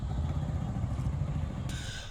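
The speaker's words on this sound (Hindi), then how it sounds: "जहां आप देख रहे हैं भाई आ रहा है बाइक से" A motorcycle approaching outside near a mosque and washroom at Safdarjung Tomb in Delhi, a steady low engine rumble that holds throughout with a faint higher whine joining near the end.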